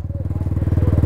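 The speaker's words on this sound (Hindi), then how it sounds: "चलो सब बाइक लो, निकाल रहे अपना बाइक।" Motorcycle engines run close and loud, with a rapid, even pulsing throb that climbs slightly toward the end, heard alone without talk.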